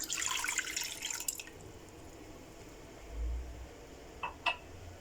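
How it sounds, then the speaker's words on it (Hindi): Water from a glass poured into a kadhai (wok) in a home kitchen, a short splashing burst at the start, then a few faint drips and light clinks, with no talk. "इसके लिए हम कढ़ाई में 1 गिलास पानी लेंगे।"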